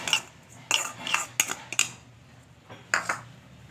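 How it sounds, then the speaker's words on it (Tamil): Wheat flour, rice flour and grated coconut mixed in a bowl with a spoon, giving a series of close, bright metallic clinks and scrapes separated by short pauses. "லைட்டாக மிக்ஸ் பண்ணி விட்டுட்டு"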